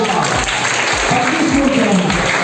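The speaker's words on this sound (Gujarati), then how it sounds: "જોરદાર તાળી પાડો" Brief, loud applause from a school crowd for the second-placed team at a mother-language-day quiz competition, with the clapping dense and continuous and a voice talking over it.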